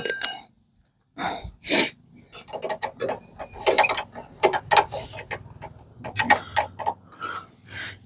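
A motorcycle shock absorber is tightened by hand, giving irregular bursts of sharp metallic clicks, ratcheting and clanks close up, with short pauses between them.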